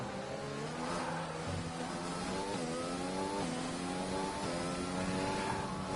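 Formula 1 car engine on a warm-up lap in an F1 video game at the Italy round, a high revving whine that climbs and drops through gear changes, steady and close.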